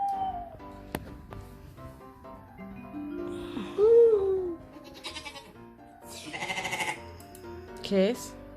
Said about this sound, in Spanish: Cabra.